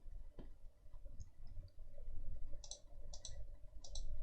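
A computer mouse clicks a few times, soft and separate, over a low steady background hum with no one talking.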